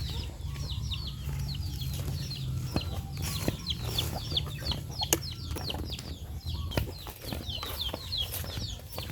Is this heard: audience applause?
no